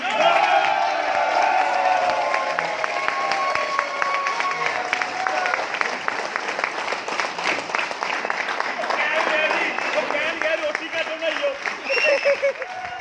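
A crowd at an LDP training program in Zirakpur shouts and cheers loudly and continuously, with scattered whoops and clapping that hold throughout at full strength.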